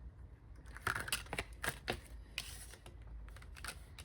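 Quiet crisp riffling and tapping of tarot cards being shuffled close by, in short irregular bursts with no talking.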